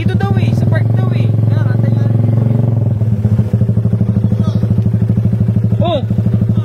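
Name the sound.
Honda Raider 150 motorcycle with open exhaust pipe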